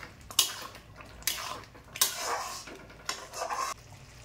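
A spoon scrapes and clinks in a pan as ghee and garam masala are stirred into palak paneer, with several sharp metallic taps spread through a soft, steady cooking background.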